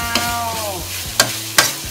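Meat tossed with curry paste in a hot pan sizzles steadily and loudly, broken by several sharp scraping strokes of a spatula against the pan at irregular intervals.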